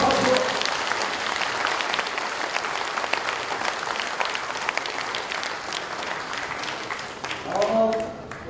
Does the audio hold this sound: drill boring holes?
no